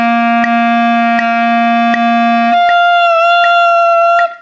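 A clarinet sustains one steady, buzzy note with the tongue held too low, giving a poor, thin tone. The pitch shifts partway through, short clicks recur, and the note cuts off near the end. It is loud and close, with no talking.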